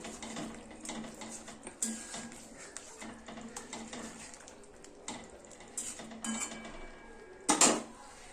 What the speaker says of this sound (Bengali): বাটা মশলা সর্ষে এর মধ্যে দিয়ে দেবো ভালো করে সর্ষেটাকে একটু গুলিয়ে দেবো